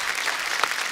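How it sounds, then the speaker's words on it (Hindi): A studio audience on a comedy talk show applauds, a dense, steady burst of many hands clapping at once, loud and close for under a second with no talk over it. "एक बार जोरदार तालियां हमारे तमाम दर्शकों के लिए"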